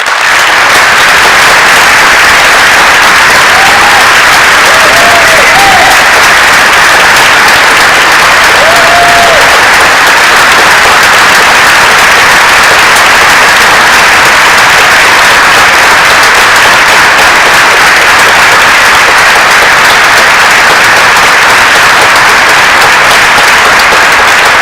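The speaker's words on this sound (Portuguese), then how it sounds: "queria pedir autorização à mesa para que a plateia desse uma grande salva de palmas" Conference audience giving a speaker a long, sustained round of applause, a loud, unbroken roar of clapping that stays even for the full twenty-odd seconds.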